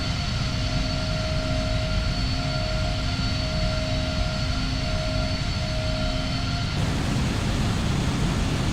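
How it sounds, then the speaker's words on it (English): Steady broadband wind roar in flight as heard from the nose of an airliner flying from Miami to San Francisco, with a constant engine hum and whining tones underneath, shifting abruptly near the end. "Listen to that wind."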